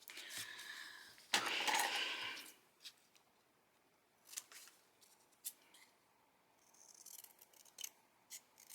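Scissors cutting collage paper close up, one longer crisp snipping pass followed by several short, quiet snips and paper rustles in a quiet room.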